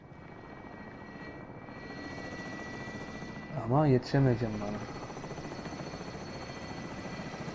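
Propeller aircraft engine drone in the Warzone video game, a steady buzzing hum running throughout while players talk briefly over it in the middle.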